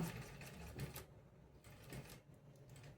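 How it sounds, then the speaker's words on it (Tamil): Sewing machine running a short back stitch on fabric while attaching a pocket, a steady rapid mechanical chatter with brief pauses and changes in pace, close and fairly quiet. "பேக் ஸ்டிச் போட்டுக்கிறேன்."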